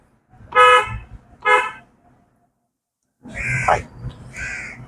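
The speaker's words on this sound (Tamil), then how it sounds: "ஹார்ன் அடிக்க" Two short car horn honks, then a longer pair of louder honks after a pause, with road rumble beneath.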